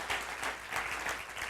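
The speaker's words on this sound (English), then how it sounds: "Let's clap for all those people." An audience in a church sanctuary applauds during a Sunday service, brisk overlapping handclaps rising and falling in a steady burst from a moderately distant crowd.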